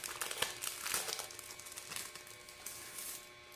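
Plastic packaging around washi sticker sheets crinkles and crackles continuously as it is opened, close and fairly quiet with no talking.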